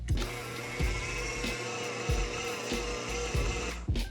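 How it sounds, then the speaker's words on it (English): Electric mixer running on its lowest speed through donut dough, a steady low motor whir with periodic thumps as the beater turns, close and continuous. "I'm gonna mix this on the lowest speed"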